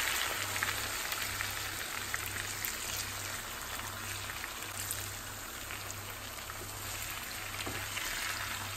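Stuffed jalapeno chilies sizzle steadily in a pan over a medium flame, a continuous crackling fry with fine spitting pops and no voices.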